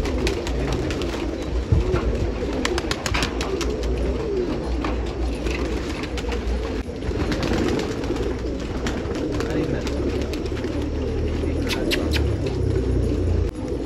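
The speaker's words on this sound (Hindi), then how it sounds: "देखो इनका कबूतर 5:17 में बैठा था और एक कबूतर 5 बजे बैठा था सामने वाले के, और हार गया।" Many desi pigeons coo together at a loft in Nashik Road, Maharashtra, in a dense, continuous low warble. Faint voices and outdoor rumble sit underneath.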